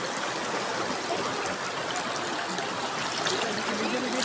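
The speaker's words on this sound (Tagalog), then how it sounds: "Sobrang lakas ang tubig." Strong flowing water rushes continuously at a river swimming spot in Aguilar, a dense, steady, fairly loud stream roar with no talking.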